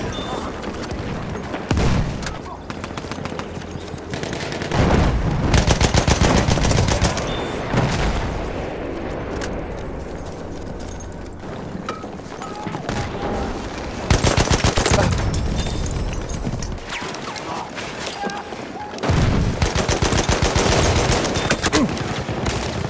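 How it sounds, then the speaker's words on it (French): Battlefield 1 Conquest battle in Soissons with sustained enemy machine-gun fire and other gunshots, dense rattling bursts rising and falling, while in-game voices speak over the shooting. "C'est une mitrailleuse ennemie."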